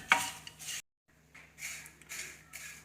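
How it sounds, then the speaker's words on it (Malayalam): Flattened rice (poha) roasts in a hot dry pan, heard as faint scraping and rustling stirring strokes in short bursts, with a brief silent pause between them. "ചൂടായ പാനിലേക്ക് വറുത്തെടുക്കാനുള്ള അവിൽ ഇട്ട് കൊടുക്കുക"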